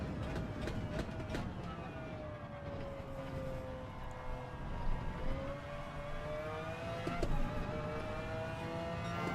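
A McLaren F1 GTR Longtail race car in a video game runs a time trial at Le Mans, its engine tone rising and falling through gear changes as a steady loud drone with occasional shifts.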